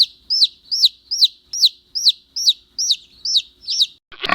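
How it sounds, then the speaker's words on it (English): A chick chirps in a steady series of about ten evenly spaced, high, clear peeps, loud and close with no other sound behind it. A short noisy burst cuts in at the very end. "Chick."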